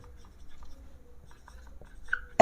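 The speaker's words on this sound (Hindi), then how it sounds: "अब हम यहां लिखेंगे" Marker or chalk scratches faintly on a board during a chemistry lesson, giving soft intermittent strokes in a quiet room, followed by a sharp loud burst right at the end.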